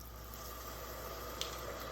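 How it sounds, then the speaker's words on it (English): Sherry poured into a risotto pan sizzles in a home kitchen, a soft, steady hiss that stays faint and even throughout, with no talking. "You're going to get that sizzle,"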